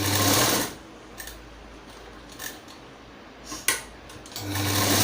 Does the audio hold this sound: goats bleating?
no